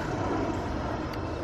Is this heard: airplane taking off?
yes